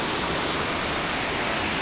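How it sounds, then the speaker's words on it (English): A waterfall in Washington roars steadily under a small land bridge, a dense continuous rushing wash of falling water, close and unbroken with no other sounds. "there's a small land bridge that the waterfall runs underneath."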